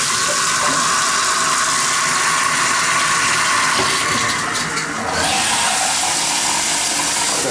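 A hotel room shower hisses steadily and loudly, a continuous spray with a brief dip in the middle, no voices.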